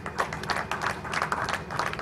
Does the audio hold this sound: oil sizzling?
no